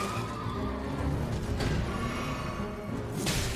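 Horse neighs and whinnies in a video game, with hoofbeat clip-clop, as its rider is knocked off at night; a dense, continuous game soundscape with several whinny bursts across a few seconds.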